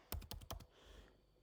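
A computer keyboard gives a quick burst of four or five close, crisp keystrokes, then falls quiet under faint background hiss.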